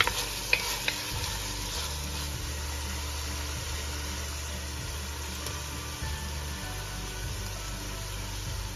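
Soffritto vegetables sauté with fresh rosemary sprigs in a pan on medium-high heat, giving a steady, even sizzle with a few faint stirring clicks and a low background hum.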